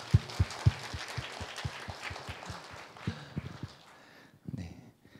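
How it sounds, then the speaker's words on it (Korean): Sparse, evenly spaced claps ring out at a church service welcoming guests, sharp single hits at first, then thinning and softer, with a few scattered knocks near the end; quiet and somewhat distant. "잠깐 일어나시면 우리 환영의 박수로 환영하겠습니다"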